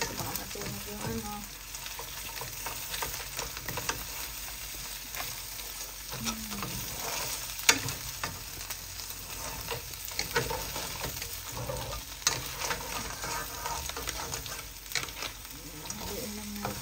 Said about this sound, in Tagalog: Haliin lang natin ang halo.